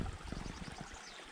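Creek water running along a mountain trail, a steady broadband rush with low gurgling pulses, fairly close and continuous for the whole short stretch, no voices.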